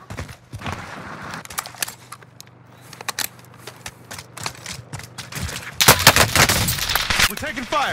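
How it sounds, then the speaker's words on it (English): Rapid gunfire in the video game Call of Duty: Modern Warfare, with close automatic bursts and scattered single shots that swell louder near the end, under occasional talk. "We're taking fire."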